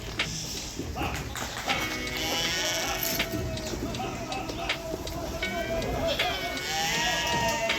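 Goats being selected for Qurbani in the USA bleat repeatedly among the herd, some calls near and some farther off, with hoof taps and someone talking over them.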